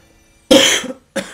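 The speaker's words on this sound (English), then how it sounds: "And excuse my cough." Two close, loud coughs from a man recovering from a cold or flu: one strong hacking cough that trails off, then a shorter second cough a moment later.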